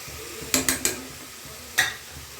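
Rice tipped into a pan of fried pulao mixture: four sharp metallic clinks of a spoon against the pan, three in quick succession and one a second later, over faint background hum; no talking.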